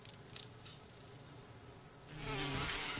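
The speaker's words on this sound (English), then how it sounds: "Oh god, the bees!" In a Resident Evil video game, a steady, close bee buzz drones continuously, swelling louder toward the end, with no talking.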